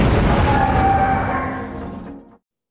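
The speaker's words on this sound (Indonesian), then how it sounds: "dalam sebuah ledakan" A loud, deep explosion rumbles heavily and then dies away over about two seconds, ending in silence.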